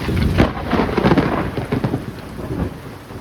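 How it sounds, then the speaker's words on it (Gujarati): Thunder from a nearby lightning strike rumbles through heavy monsoon rain over a Botad village farmstead, a loud rolling crash that swells and fades over steady downpour. "પડી વીજળી મિત્રો આ બાજુ ક્યાંક"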